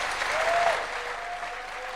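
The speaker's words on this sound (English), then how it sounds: "President Ruto and President Macron a warm round of applause" Applause from a conference audience at a summit in Nairobi, Kenya, a moderate, fairly distant wash of many hands clapping continuously, with no clear voices.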